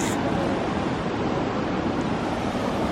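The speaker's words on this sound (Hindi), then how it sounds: "ये देखो क्या नज़ारा है, पूरा पानी वहाँ से जा रहा है" River water rushes steadily under a bridge at a hill station in Gujarat, a broad, even roar with no voices.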